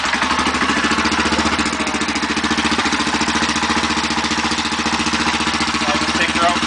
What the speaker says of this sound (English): so I'm just going to start up the bike